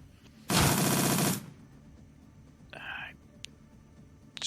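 A single loud, rapid burst of automatic fire from Shadowrun: Dragonfall lasting about a second, followed by quieter game effects and brief clicks in an otherwise calm background.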